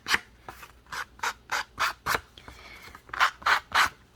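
A distressing tool scraped along the edges of paper cards, giving about a dozen rhythmic rasping strokes, close and crisp, with short pauses between them.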